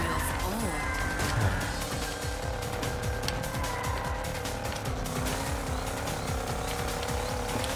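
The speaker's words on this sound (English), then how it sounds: "It sounds like an old car." A steady, rough engine drone with a buzzy, old-fashioned tone runs continuously, like an old car cruising at constant speed in the racing game Hotshot Racing.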